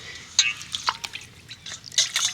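Ripe palm fruit being washed by hand in water, with scattered drips and small splashes at close range, some louder spills between quieter trickles.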